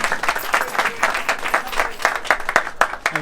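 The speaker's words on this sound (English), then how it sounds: "Give him a round of applause." A crowd at an outdoor protest rally bursts into steady, dense applause, many hands clapping close together in a loud, continuous wash with a few sharper individual claps standing out.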